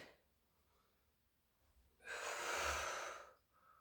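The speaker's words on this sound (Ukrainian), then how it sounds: "Вдих і видих. Ще вдих." A single long, breathy exhale during a pilates exercise rises loud and close after a quiet stretch of softer breathing, then fades as the next slow inhale begins.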